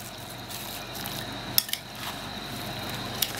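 Fruit chaat is mixed with chaat masala in a bowl, a soft, quiet churning of fruit pieces broken by a few light spoon clinks against the bowl.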